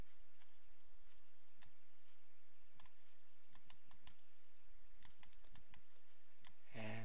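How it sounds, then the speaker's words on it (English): A computer mouse clicking while working in web page editing software, giving scattered soft close clicks at irregular intervals over a quiet background hiss. "and click on an image"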